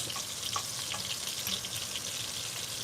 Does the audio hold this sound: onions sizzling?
yes